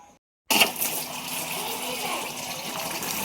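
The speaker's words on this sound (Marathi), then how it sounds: "पाणी आले आणि बॅलर भरला" After a brief silence, water from a household tap suddenly gushes into a barrel, a steady, close rushing stream that keeps pouring without letup.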